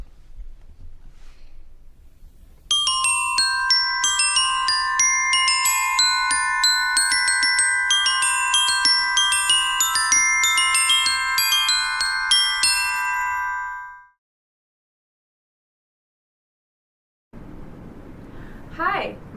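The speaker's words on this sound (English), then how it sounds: "Here are two contrasting examples of what can be played on the bells." Bright metallic glockenspiel tones ring out under mallet strikes in a quick melodic run, notes overlapping and sustaining, then fading to silence.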